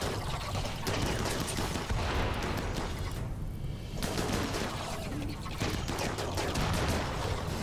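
Colonists' guns fire in RimWorld as a dense, continuous stream of rapid shots and impacts, fairly loud and steady throughout, with no talk over it.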